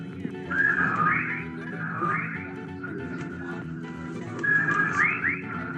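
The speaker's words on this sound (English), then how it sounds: "Listen, they're whistling time with his breathing now." Repeated whistling calls rise and fall in short bursts over a steady low rumble, fairly loud and recurring every second or two.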